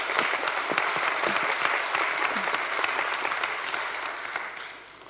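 An audience at a Paris presentation for the Equip Auto trade show applauds with dense, sustained clapping that fills the room, then tapers off near the end.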